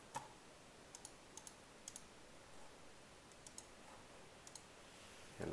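Faint, sparse keystrokes on a computer keyboard, a few scattered clicks and short pairs spread over several seconds against a quiet room hiss, soft and close, with no speech.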